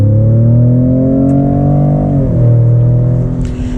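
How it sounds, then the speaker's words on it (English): A 2020 Ford Raptor pickup truck's engine revs up loudly and steadily under acceleration, its droning intake pitch climbing, dipping briefly during a gear change, then pulling again, heard up close. "now I'm going to talk about the intake noise"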